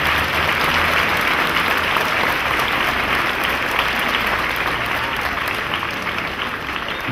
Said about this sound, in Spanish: le vamos a dar un aplauso al Consejo de la Comunicación